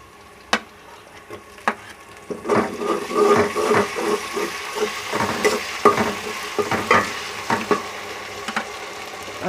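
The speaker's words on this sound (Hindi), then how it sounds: "इसके बाद हम इसमें अदरक लहसुन का पेस्ट डालेंगे।" Ginger garlic paste sizzles and crackles in a hot pan, with sharp clicks at first and then busy bursts of frying and stirring that stay fairly close and moderately loud.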